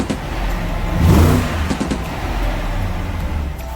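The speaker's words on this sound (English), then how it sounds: "that little blap blap from that exhaust" A BMW in street racing at night in Toronto blips its exhaust, a nearby engine rising to a brief revving swell, then a few sharp pops and crackles over a steady idle rumble.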